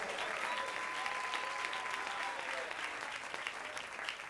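Church congregation applauding the Lord during a Spanish-language Sunday sermon, a steady, dense wash of clapping from many hands that holds at an even level and fades only slightly toward the end.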